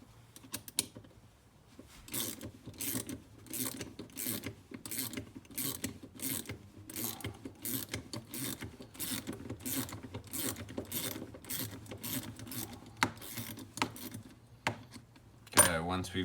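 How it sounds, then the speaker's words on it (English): A number 10 spanner works a nut loose on a wheel shaft, producing a long run of evenly spaced metallic ratcheting clicks close by, with a person talking quietly underneath. "just take a number 10 spanner, and we're going to take out the old shaft"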